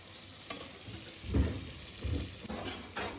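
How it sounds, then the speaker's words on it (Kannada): Mustard seeds, curry leaves, chana dal and onion fry in hot oil with a soft, steady sizzle, broken by a few louder scraping stirs of the pan; fairly quiet and close, with no talk. "ಎಣ್ಣೆ ಹಾಕಿ ಸಾಸಿವೆ, ಕರಿಬೇವು ಹಾಗೆ ಕಡಲೆಬೇಳೆ ಇಷ್ಟು ಹಾಕ್ಕೊಂಡು ಚೆನ್ನಾಗಿ ಫ್ರೈ ಮಾಡ್ಕೋಬೇಕಾಗತ್ತೆ"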